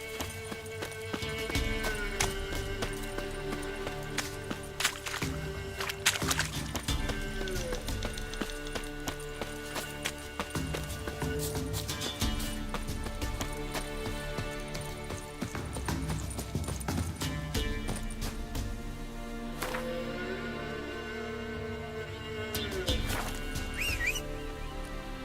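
Roach, the horse in The Witcher 3, gallops through Velen with continuous rhythmic hoofbeats, close and steady, with occasional neighs and game music or ambience underneath.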